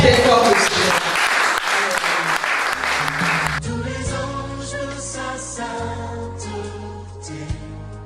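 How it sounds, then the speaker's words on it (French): Church congregation applauding loudly through the first few seconds, then the clapping gives way as sustained keyboard or organ chords take over and continue steadily to the end. "Acclamons très fort le Seigneur."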